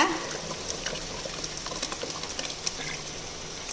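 Ground coconut paste stirred into a boiling tamarind curry (Thiruvathirai kuzhambu) gives a faint, steady bubbling and wet splashing hiss, with soft irregular clinks from the pot.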